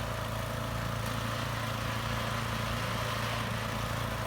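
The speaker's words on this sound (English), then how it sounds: "Snow blowers are cool." A snow blower engine runs steadily close by, a continuous loud droning rumble with no pauses and no talk.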